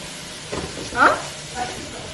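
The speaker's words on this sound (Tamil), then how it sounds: "ஆனியன்ஸ் கொஞ்சம் நல்லா ப்ரௌன் ஆகணுங்க, அது வரைக்கும் கொஞ்சம் ஃப்ரை பண்ணிக்கோங்க" Onions frying in a pan for pepper chicken give a steady, soft sizzle with a faint hiss, while a voice speaks intermittently over the cooking.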